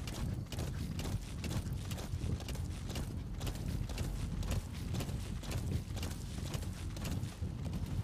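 Rapid, steady clip-clop of horse hooves at a brisk pace in Metal Gear Solid V, continuous and close over a rumbling background.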